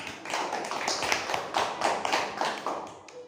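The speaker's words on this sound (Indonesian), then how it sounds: "Bagus, tepuk tangan untuk" Classmates clap for group A in a classroom after they read out their summary, a short burst of scattered, fairly close hand claps with a few uneven slaps and no talking.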